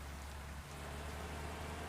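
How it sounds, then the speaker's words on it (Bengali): Heavy rain pours steadily onto a street with slow, jammed traffic, a dense, even hiss of drops from start to finish with no voices. "প্রচণ্ড বৃষ্টি পড়তেছে"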